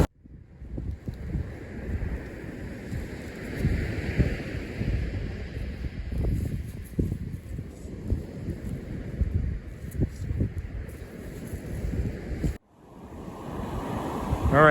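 Wind blows at the muddy shore of a bay, buffeting the microphone in uneven gusts over a steady surf-like roar, cutting out briefly near the end before rushing back.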